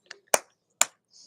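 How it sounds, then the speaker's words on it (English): Slow, deliberate hand claps ring out alone: three sharp, evenly spaced claps, close and clear against silence. "this is my slow clap for all of the men out there that are doing the healing work"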